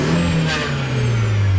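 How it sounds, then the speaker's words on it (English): A car engine is revved hard, its pitch rising sharply and then easing back down in a short, loud burst. "Let's give it a rev."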